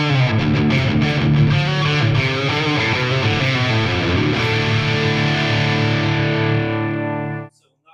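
Distorted drop D electric guitar played through a modelled Friedman 100 amp with delay, a loud, dense riff ringing with echoes that cuts off abruptly near the end.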